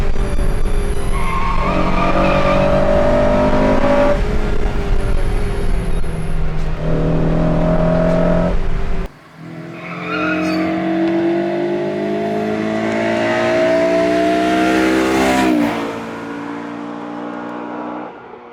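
A Honda Civic Si with VTEC revs hard while driving, its loud close engine note climbing through several pulls, with a sharp break as it shifts before rising again.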